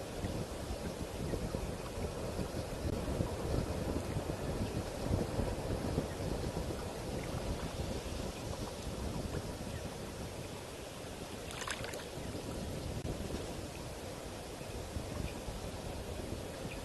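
Continuous wind blowing and buffeting across the microphone, a steady rushing roar with no voices.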